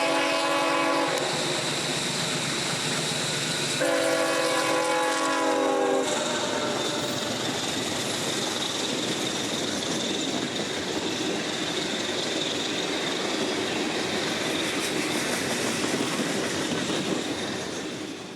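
A freight train passes close in Central Florida, opening with loud blasts of the horn, then a long steady rumble and clatter of wagons rolling by for many seconds before fading slightly.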